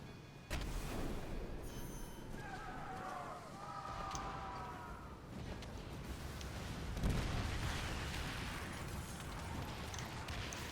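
Ship mortars fire in the naval video game Skull and Bones, a few dull booming shots rumbling amid constant creaking, splashing ship noise, fairly distant and muffled.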